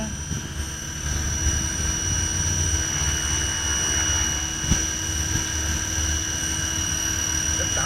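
An ATom 500 FB radio-controlled helicopter hovering in place, a steady, loud whine of the rotor and motor with constant pitch, holding evenly from start to finish with no talk.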